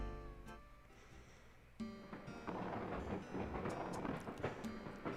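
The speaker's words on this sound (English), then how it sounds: "And then here comes Rover on the train." A video game train rumbles in to arrive, a low, rolling rumble that swells and grows busier and rattling over several seconds with no voices.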